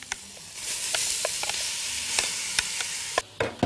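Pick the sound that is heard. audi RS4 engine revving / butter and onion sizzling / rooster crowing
butter and onion sizzling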